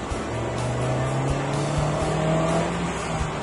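2012 Honda Fit subcompact heard from inside as its engine pulls away from a start, a steady rising drone with road noise and a few thumps over bumps.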